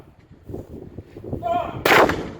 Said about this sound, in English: Number 4 gun! Fire!